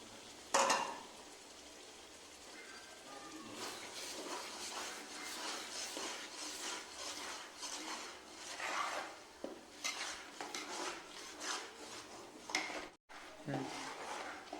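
Onions frying in a pan as ginger garlic paste goes in, with steady sizzling, metal spoon scraping and clinking against the pan, close and moderately loud, and people talking at times underneath.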